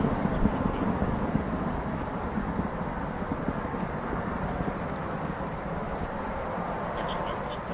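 Distant broadband roar of rocket boosters during the New Horizons launch, a steady rumbling wash of noise with a wind-like texture, unchanging in loudness for the whole stretch.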